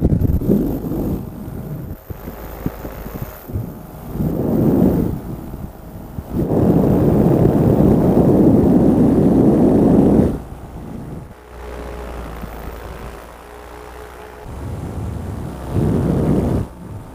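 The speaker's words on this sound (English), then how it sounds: "Motor is very smooth, very comparable like to the Viterazzi 185 with the clutch as smoothness goes" An Air Conception Delta 200 Nitro paramotor engine runs in flight at low RPM, its motor drone swelling and fading as gusts of wind buffet the microphone, with louder stretches broken by quieter lulls.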